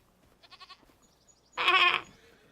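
Goats on a farm bleating: a short run of quick, wavering bleats, then a louder, harsher bleat about a second later, fairly close and with no talk.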